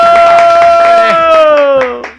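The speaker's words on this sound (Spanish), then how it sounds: "Aplausos, por favor, para el señor Álvaro Bayona." Studio audience applause for Colombian actor Álvaro Bayona on a television talk show, brisk claps running beneath loud sustained musical tones that fade out at the end.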